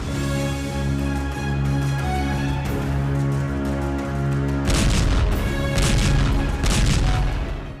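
Hezbollah rocket strikes about 10 km from Tel Aviv produce a loud, continuous low rumble layered with booms, then a denser burst of sharp crackling blasts and impacts through the latter half.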